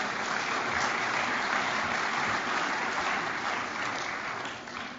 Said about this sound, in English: let's give a little bit of a pass-back reward clap for KU